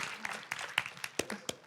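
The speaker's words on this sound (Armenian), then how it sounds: "Եկեք բարձր ծափարենք բոլորի սանոց սարկավակ Անդրանիկին" A few sharp, scattered claps sound from an evening show audience, spaced unevenly over a quiet room.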